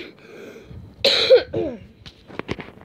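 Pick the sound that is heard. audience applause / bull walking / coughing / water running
coughing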